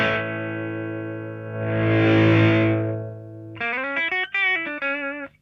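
Electric guitar through the overdrive of a TC Electronic Nova System pedal, a long sustained distorted chord swelling and fading, then a close run of driven melodic notes.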